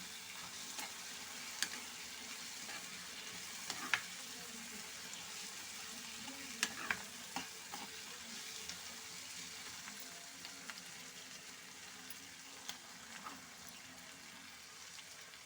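Ginger garlic paste frying in a pan for tomato egg curry: a steady, moderate sizzle with occasional louder pops and crackles, and faint stirring or scraping sounds, with no talking.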